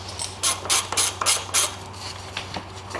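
A ratchet spins out 10 mm screws holding a plastic cover over the intake and wiring harness on a GM LS V8 such as a 5.3, giving bursts of quick clicking over a steady low hum.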